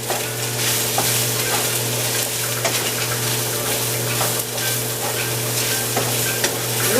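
Onions and mushrooms fry in plenty of oil for chicken fried rice, a loud, constant sizzle with a low hum underneath and occasional stirring clatters.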